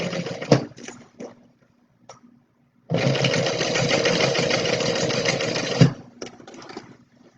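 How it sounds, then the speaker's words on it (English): A sewing machine runs in one steady burst for about three seconds, top stitching the straps of a tote bag close to the edge. Shorter stitching runs and handling noises come before and after it, and no one talks. "just top stitch about 1/8 of an inch or so away from the edge"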